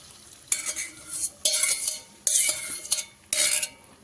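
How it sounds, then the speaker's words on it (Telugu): Beaten egg poured into a hot pan with salt for tomato egg bhurji, heard as four close, bright bursts of frying sizzle with stirring and clinks, each about half a second to a second long, with quieter gaps between them. "మొత్తం ఎగ్ని ఇలా రౌండ్గా పోసేసుకోవాలి."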